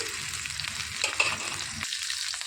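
A tablespoon of cumin seeds frying in hot oil, a bright continuous crackling sizzle that drops away abruptly near the end.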